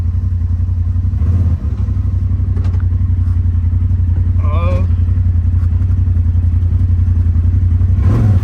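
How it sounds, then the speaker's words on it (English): A crashed side-by-side UTV at an insurance auto auction idles with a steady, loud low-pitched engine drone that continues throughout, with a clunk near the start as it is put in gear and brief voices and clatter over the running motor. "Yeah. That engine sounds good."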